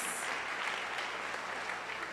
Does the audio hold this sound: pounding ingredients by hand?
no